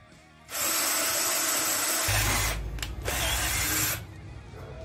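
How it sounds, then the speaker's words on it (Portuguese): A Tramontina cordless drill in drill mode bores into wood with an 8 mm bit, a loud steady whine that rises and shifts pitch as the bit bites, stalls briefly and carries on before stopping. "Vamos colocar no modo furadeira."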